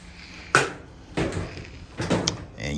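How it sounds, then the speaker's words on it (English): A few hollow knocks and clunks as a Maytag Bravos XL dryer door is hung back into place, three distinct bumps spaced about a second apart, close by. "we're going to reinstall the door. Let it hang at the top right there."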